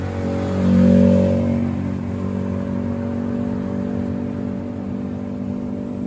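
Inside a Mitsubishi Pajero Sport moving through afternoon traffic, a steady muffled engine hum carries a low drone, swelling briefly early on and then settling to an even, quiet cabin rumble with no voices.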